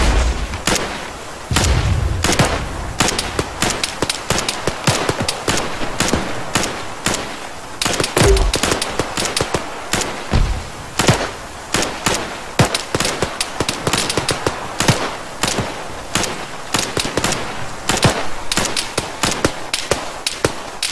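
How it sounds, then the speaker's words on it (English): Dense, sustained gunfire from the Arma 3 combat game, rapid automatic bursts and single shots crackling continuously and loudly for the whole stretch, with no pause between volleys. "I think we're just wasting ammo shooting at him."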